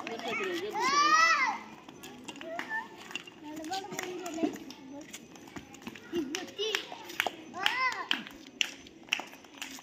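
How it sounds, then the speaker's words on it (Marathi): Children in a school classroom clap their hands in scattered, uneven bursts amid lively children's chatter and an adult voice leading them, the claps growing sharper and more frequent toward the end. "टाळ्या वाजवा, टाळ्या टाळ्या टाळ्या."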